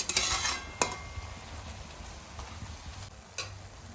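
Garlic and fenugreek greens (methi bhaji) sizzle in a pan while they are stirred, with a few sharp utensil clinks against the metal over the steady low frying.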